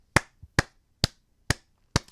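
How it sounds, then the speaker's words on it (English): Five sharp hand claps, slow and evenly spaced, loud and close, given as applause with nothing else around them. "show of applause right there."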